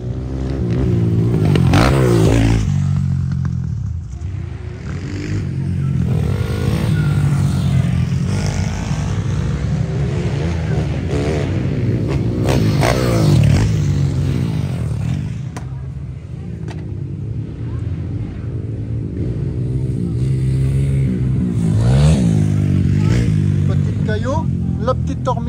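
A motorcycle engine revs and roars up close, its pitch rising and falling in repeated surges, with wind buffeting throughout.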